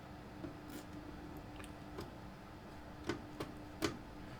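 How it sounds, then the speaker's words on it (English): Faint, quick clicks from a clock mechanism, irregularly spaced, over a low background hum. "the clock has picked up speed for some reason"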